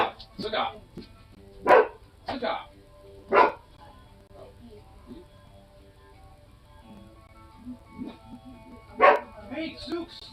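Dog barking with its mouth full, a series of short muffled barks and yips spread out with pauses, fairly close, alongside occasional voices.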